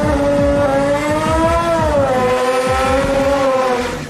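1977 Mazda RX-3 race car accelerating hard at ATCO Raceway during drag racing, a loud rotary engine wail climbing through gear changes, close and continuous with no talking.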